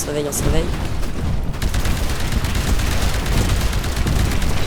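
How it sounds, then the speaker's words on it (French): An anti-titan weapon firing mini-missiles in the Titanfall beta, giving a dense, continuous barrage of loud blasts and explosions that runs throughout, with brief chirpy game tones at the start. "là j'ai une arme anti-titan qui tire des mini-missiles."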